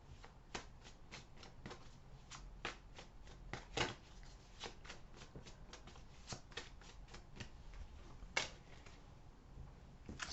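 Tarot cards being shuffled by hand, a quick run of crisp riffling snaps and slaps, some sharper than others, close and fairly quiet with no talking.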